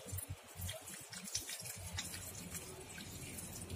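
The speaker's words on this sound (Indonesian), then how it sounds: "Kita siram sampai full." Water pours onto leek plants in a polybag with a soft, steady gush, starting with a few rhythmic splashes and then settling into a continuous quiet trickle.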